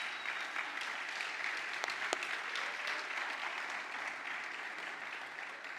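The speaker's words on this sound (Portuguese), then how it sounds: "Vamos aplaudir o Senhor," A church congregation applauds steadily for the Lord, a dense even patter of many hands at moderate distance that holds for several seconds with little other sound.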